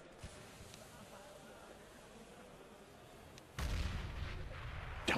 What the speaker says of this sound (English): Double headshot from Smiths